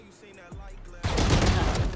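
Frenzy pistol gunfire on the Icebox map in a tactical shooter, a quick burst of close, loud shots starting about halfway through after quieter game sounds and a few faint knocks.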